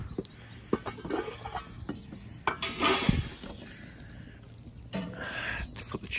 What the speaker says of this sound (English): And I'm going to use my Pathfinder frying pan.